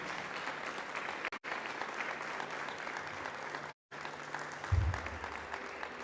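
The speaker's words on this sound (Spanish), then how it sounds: "Dale un aplauso al Señor." A church congregation at a Sunday morning Spanish-language service applauds, a steady wash of clapping that cuts out briefly twice, ending with a low thump.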